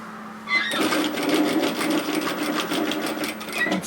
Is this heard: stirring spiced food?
no